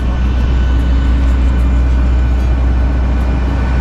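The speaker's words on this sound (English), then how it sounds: "here we are in Sibiu Airport" A loud, steady roar of aircraft noise at Sibiu Airport fills the air without a break, deep and rumbling, with no voices over it.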